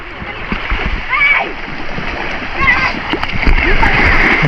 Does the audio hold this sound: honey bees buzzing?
no